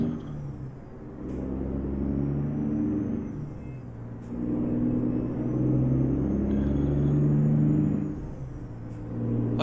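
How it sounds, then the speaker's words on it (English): Steady road traffic rolling through a small town, with continuous engine rumble and vehicles passing close by, swelling and easing as cars and heavier vehicles go past, with no voices. "That's a lot of traffic for this small of a town."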